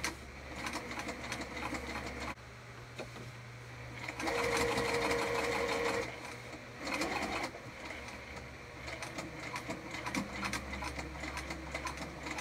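Sewing machine topstitching a crossbody bag, a steady close mechanical whir running in several bursts with brief pauses and changes in speed, over faint room hum.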